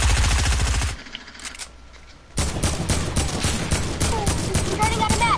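Rapid automatic gunfire in Fortnite shreds a player-built wall: a fast, loud stream of shots, a brief lull, then more sustained bursts with in-game impacts and effects.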